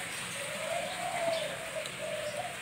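A spotted dove coos repeatedly in a soft, steady rhythm, close by at a breeding cage, over a hissy background of ambient noise.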